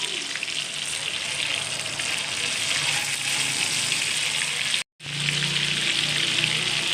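Stuffed round gourds (tinda) sizzle steadily in hot oil, a loud, continuous crackling hiss that cuts out for an instant before resuming just as strongly.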